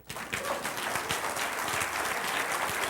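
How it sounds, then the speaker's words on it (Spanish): A church congregation applauds itself during a sermon on faith, a dense wash of many hands clapping that swells quickly and holds steady until the end. "Dese un aplauso a sí mismo."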